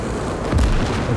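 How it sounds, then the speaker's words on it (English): An SU-152 self-propelled gun fires in the World War II strategy game Gates of Hell, a single deep boom thudding out of dense, rumbling battle noise. "That SU-152 gun."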